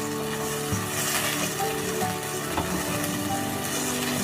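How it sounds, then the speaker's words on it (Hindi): Mutton and spices fry in a karahi with a steady, close sizzle and crackle that holds evenly throughout, with soft stirring scrapes and no voices. "तो 2 से 3 मिनट तक के लिए भूनेंगे मसाले डाल कर।"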